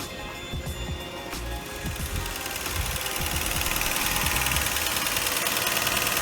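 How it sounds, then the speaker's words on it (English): A Lexus GS300 engine idles with a steady, fast metallic ticking over a low mechanical hum, close and continuous with no voices. "And then the ticking, obviously, of the engine."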